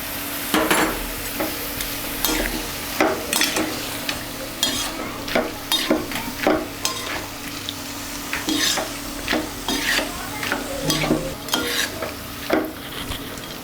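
A gourd curry with salt and turmeric stirred in a pan, a spatula scraping and clattering in repeated bursts over a steady low sizzle, close and with no talking.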